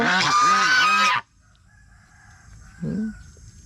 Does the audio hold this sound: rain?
no